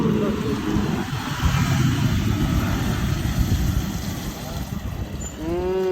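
A Lexus LX470 stuck in mud revs its engine, a low droning rumble that rises and falls, while voices talk loudly over it throughout.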